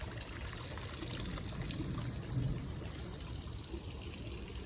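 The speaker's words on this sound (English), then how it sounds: "I finally got my lovely fountain on with its pretty sound of trickling waters." Water trickles and splashes continuously from a garden fountain, a soft, steady, close-up babbling with no pauses.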